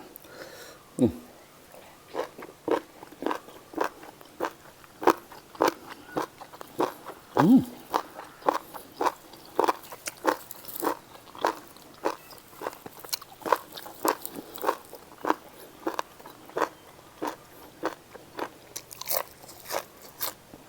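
Someone chews raw beef tripe served with a bitter spicy dipping sauce, with close, loud, repeated crunchy bites in a steady rhythm for about twenty seconds and a few brief voice sounds in between.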